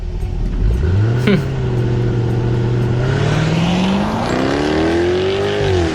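A Jaguar F-Type's exhaust roars loudly as the engine revs, the pitch dipping and then climbing steadily as it accelerates, close by.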